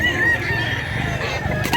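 A Peruvian-cross gamecock clucks and crows close by, giving a short burst of harsh, tonal calls over a low background murmur.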